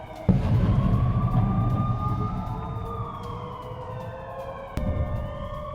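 Air raid siren wailing across Belgorod, a residential area under Ukrainian attack; a sustained rising and falling tone holds throughout, with a broad rumble and a sharp bang near the end over distant crowd noise.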